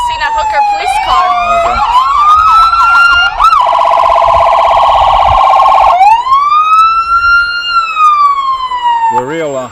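Police car siren at a small-town pioneer days parade, loud and close, cycling through rising wails and a rapid yelp before returning to long sweeping wails.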